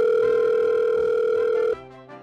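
A telephone dial tone plays while a number is being called in the Roblox video game, a steady loud hum that lasts almost two seconds and then cuts off to a quieter tail.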